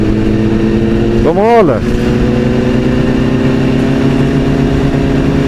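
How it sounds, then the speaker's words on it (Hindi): Yamaha R1 superbike at night in desert country, engine droning steadily with one sharp rev that rises and falls in pitch, close and loud, with a voice speaking briefly over it. "ये जो R1 है ना, इसकी आवाज ऐसी को मर्दाना है ना"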